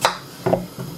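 A knife trimming a potato flat on a cutting board, three short crisp cutting thuds spaced apart, close and clear.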